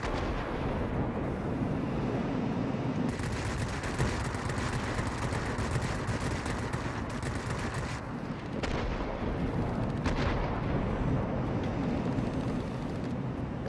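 Aircraft guns and explosions in World of Warplanes around a Tu-12 bomber, a loud continuous rumble broken by sharp rattling bursts of fire, heard alone without talk.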